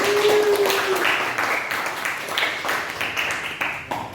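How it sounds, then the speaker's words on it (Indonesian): Students in a history classroom clapping together, a rapid patter of many hands close by that thins out toward the end, with a brief voice at the start. "Tepuk tangan dulu dong buat kita semua"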